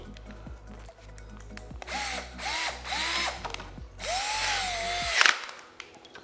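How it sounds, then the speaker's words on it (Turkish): A power drill whirs in several short bursts, its pitch rising as the step bit widens a screw hole, ending in a longer grinding run; no voices. "bir adet piramit dereceli matkap ucuna ihtiyacımız var"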